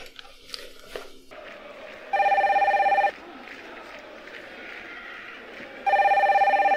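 Telephone ringing during a call to a coach in a French mystery video game, two loud electronic ring bursts of about a second each separated by a quiet gap, with faint background noise between.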